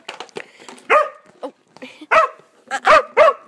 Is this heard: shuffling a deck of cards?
no